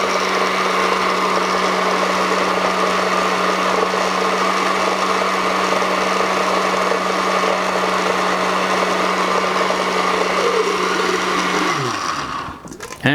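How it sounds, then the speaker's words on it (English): A countertop blender motor runs loud and steady, whirring through a batch of red pepper hummus for several seconds, then winds down sharply and cuts out near the end. "Blending up nice."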